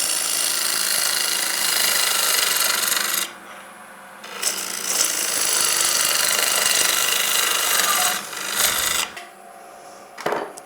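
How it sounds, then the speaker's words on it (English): A lathe tool cuts into spinning timber while a wooden bowl is turned, making a loud, steady hissing rasp that breaks off briefly twice before resuming, close up and with no talk. "we're getting quite a nice shaving from the timber, so that really means that we're getting a reasonable finish straight from the tool"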